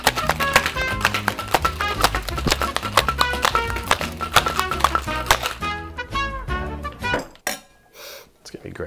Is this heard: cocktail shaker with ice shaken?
yes